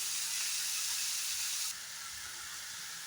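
Chicken fried rice fries in a pan with a steady, bright sizzle that drops to a softer hiss partway through, close and continuous with no talking.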